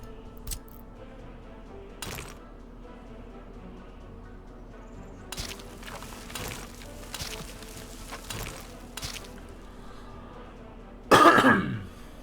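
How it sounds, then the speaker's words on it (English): Throat clearing from a man with allergies, one loud rasping burst near the end of a quiet stretch marked by faint clicks and soft background noise. "Sorry, still clearing my throat."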